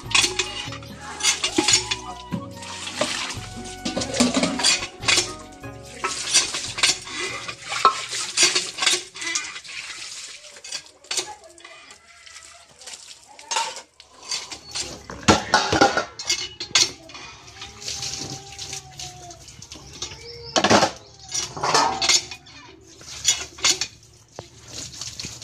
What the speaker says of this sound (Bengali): সব মাজা কমপ্লিট, এখন কড়াইটা একটু ভালো করে ঘষে নিচ্ছি